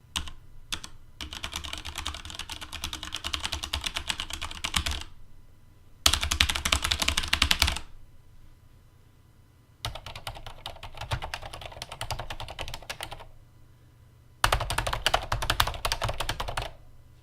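Bursts of quick typing on a Cherry MX Board Silent mechanical keyboard, the dampened keys clattering in several runs of a few seconds each, separated by short pauses.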